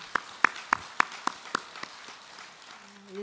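An audience in a Buddhist monk's question-and-answer talk gives brief applause: about seven sharp, evenly spaced claps that fade and thin out within two seconds, leaving a quiet room.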